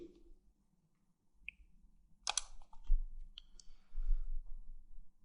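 Sharp, sparse computer mouse clicks come while navigating Windows 8, a few isolated taps then a short cluster, close and dry over a soft low hum.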